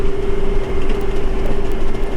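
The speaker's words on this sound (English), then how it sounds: "see the freight train over there?" A freight train passes with a steady, loud rolling rumble and a sustained hum, continuous throughout without any voices.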